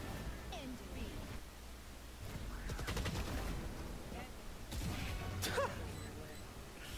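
Bursts of gunfire from a competitive tactical shooter esports match, scattered shots and short volleys mixed with game effects under commentary talk.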